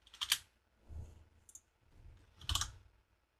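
Keys tapped on a computer keyboard, with a few sparse, soft clicks spaced apart in a quiet room and no talking.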